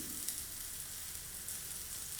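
Small onions with fennel and mustard seeds sizzling in hot oil, a continuous faint crackling hiss, close and alone.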